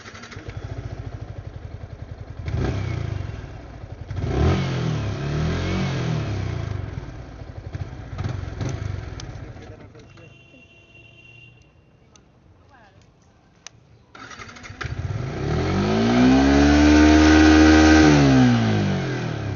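A motorcycle fitted with a cruise control throttle lock revs its engine, rising to a loud high-rpm roar in the final seconds after a quieter idle, with someone speaking over the engine earlier.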